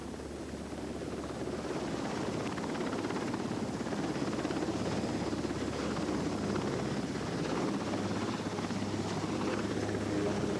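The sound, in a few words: Sikorsky SH-3 Sea King helicopter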